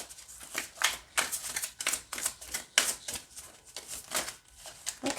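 Oracle cards are shuffled by hand in a series of quick riffling bursts, each a crisp papery flutter separated by brief pauses, close and fairly quiet with no talk.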